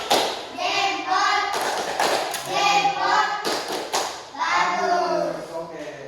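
Schoolchildren in an Indonesian classroom do a rhythmic thumb clap, a run of quick, near taps and claps spread across the span, heard under and between children's voices and chatter.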